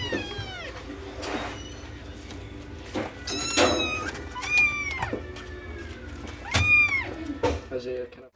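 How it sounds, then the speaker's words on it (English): Several young kittens up for adoption at a veterinary center mew repeatedly in high, rising and falling cries, close and fairly loud, with a few short bursts of background chatter between them. "Dr. Kyle, tell us a little bit about these kittens up for adoption."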